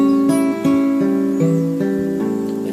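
Guitar picking a chord arpeggio from a song, single notes rising string by string and ringing into one another, close and clear with no talking.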